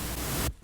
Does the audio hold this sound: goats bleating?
no